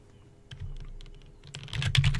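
A world name is typed on a computer keyboard as a quick run of close key clicks that speeds up and grows louder toward the end.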